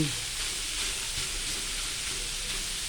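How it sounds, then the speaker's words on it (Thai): Ginger and wood ear mushrooms stir-frying in a hot pan give off a steady, dense sizzle with a soft hiss throughout, close and continuous with no voices. "ผัดอย่างนี้ก็ผัดได้"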